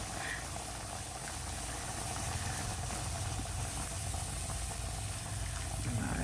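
Water boiling in a pot for pinakbet with long beans gives a dense, steady bubbling roar that stays loud and unbroken throughout.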